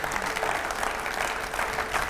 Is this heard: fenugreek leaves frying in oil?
no